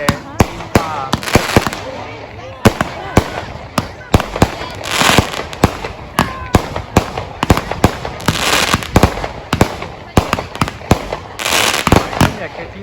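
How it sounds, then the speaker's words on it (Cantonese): Fireworks going off all across a city on Bonfire Night, with frequent sharp bangs and crackling bursts at irregular intervals, some near and loud, others farther off, while people talk over them now and then. "都有人喺度不斷成個城市喺度放煙花咯"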